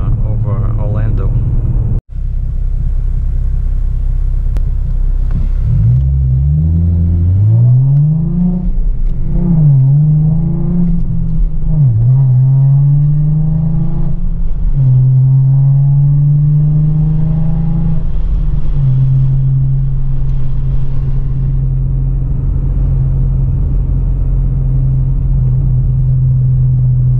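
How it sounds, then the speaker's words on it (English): Low, steady exhaust rumble from a 2017 Ford Mustang fitted with a new exhaust, heard close and continuous throughout, with an engine tone that rises and falls and a brief dropout early on. "That's how my new exhaust sounds."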